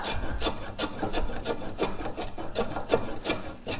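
A hand plane works a wooden workpiece in quick, rhythmic rasping strokes, about eight to ten close shaving passes in under four seconds, with no talking.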